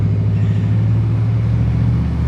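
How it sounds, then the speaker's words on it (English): A loud truck rolls by on a small-town street in Maryland, giving a heavy, close, continuous low engine rumble throughout. "there goes that loud truck again"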